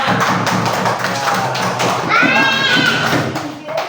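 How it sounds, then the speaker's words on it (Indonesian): Children in a classroom clap for a student group's work during a school lesson, a dense burst of small hands tapping steadily, with young voices calling out over the applause. "Tepuk tangan untuk kelompok 4."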